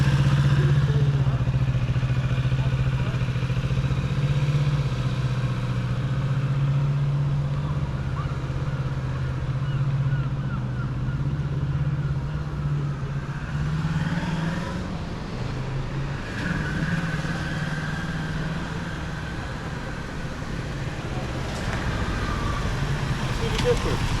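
Motorcycle rolling downhill with the throttle held steady, a constant low engine hum with faint road and wind noise, nearby and fairly even, briefly wavering midway with a few light clatters.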